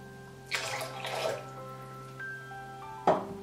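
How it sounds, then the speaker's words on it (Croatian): A small splash of water is poured into a bowl of eggs for Easter bread dough, two short pouring bursts near the start and another brief splash at the end, over a quiet background. "I malčice vode."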